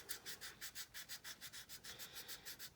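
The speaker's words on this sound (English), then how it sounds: "So I'm just going to try to sand this away." Sandpaper rubs back and forth over a 1/32 scale plastic Dornier Do 335 model kit in quick, even strokes, about six per second, faint and close with no talk.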